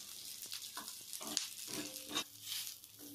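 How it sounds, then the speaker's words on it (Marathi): Green chillies, ginger and garlic roasting in a pan, a faint, close sizzle with short bursts of stirring and crackle. "पाच ग्रीन मिरच्या ह्या हिरव्या मिरच्या, आलं आणि लसूण हे व्यवस्थित आता छान आपल्याला भाजून घ्यायचे"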